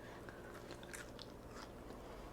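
Close, quiet crunching bites and chewing of air-crisped vegetables from a Ninja Foodi Grill, left sitting about an hour, with several short crisp bursts and no talking.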